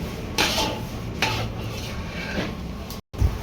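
Sesame seeds and jaggery are stirred in a pan for sesame laddu, giving a few scraping sweeps of a spoon against the metal pan with soft clinks, close and moderately loud, with no talking.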